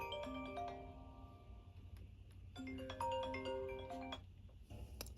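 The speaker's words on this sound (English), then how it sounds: "That was a phone I did not expect to ring" A phone rings unexpectedly during a watercolor painting session: bursts of melodic ringtone tones sound in two phrases over a steady low background hum, moderately loud and close.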